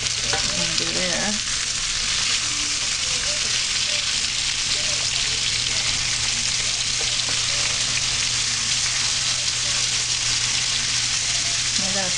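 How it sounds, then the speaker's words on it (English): A creamy mix of shrimp, salmon and bacon simmers in a pan, giving a loud, continuous hissing sizzle that holds steady throughout, up close and with no talk. "I'm going to simmer this for about 3 or 4 minutes."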